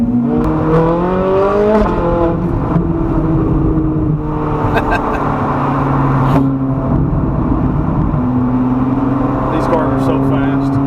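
A race car accelerates hard and spins its tires, its engine note climbing in pitch and then settling, loud and close, while people talk over it.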